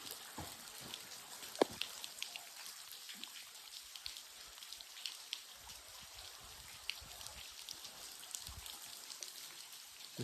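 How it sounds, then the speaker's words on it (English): Rain falling near a glacier outdoors, a faint continuous patter of drops with scattered sharper taps and a few close hits, steady throughout with no talking. "Like it's raining here."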